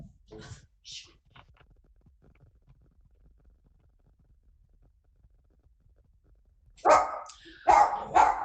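A dog barks a few times, faint at first, then a burst of loud, close barks near the end after a quiet stretch.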